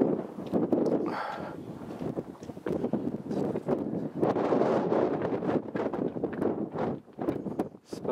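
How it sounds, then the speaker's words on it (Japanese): Gusty wind buffets the microphone on a mountain summit in the Tateyama range in late May, roaring in uneven surges that rise and fall, loud and close, with no one talking. "風が若干吹いてますけれども"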